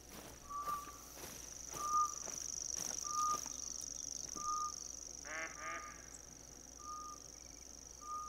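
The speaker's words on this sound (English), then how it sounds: "I heard them, but I don't know if that was their quack that they do as they're flying away." Ducks quack repeatedly in the hunting game theHunter: Call of the Wild, short evenly spaced calls at a moderate distance over a steady ambient hiss, with one rapid burst of calls partway through.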